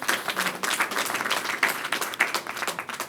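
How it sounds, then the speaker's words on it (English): An audience at a mayoral press event for the launch of a pre-K expansion breaks into applause, a lively burst of clapping with uneven peaks that holds for several seconds. "let's give him a round of applause."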